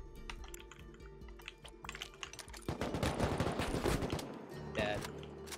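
Gunfire in the video game Rust, with rapid shots and bursts rattling loudly through the second half, mixed with keyboard clicks and faint talk.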